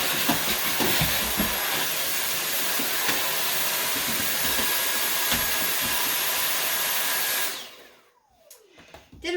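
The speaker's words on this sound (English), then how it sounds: "So I'm just going to vacuum this out really quick." A vacuum cleaner runs with a loud, steady roaring whoosh inside a plastic tote, then is switched off and its motor winds down in a falling whine.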